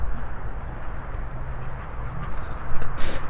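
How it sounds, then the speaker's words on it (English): Ducks quack near a homestead vegetable garden, a scattered run of nasal calls over outdoor background noise that grows louder toward the end. "Ducks are being so naughty today."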